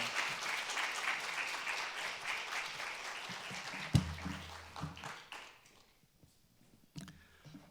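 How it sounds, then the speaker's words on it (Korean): Warm applause from a church congregation welcoming a missionary to speak, a dense spread of clapping that gradually thins and fades to a few scattered claps and a soft thump. "박수로 선교사님을 모시도록 하겠습니다"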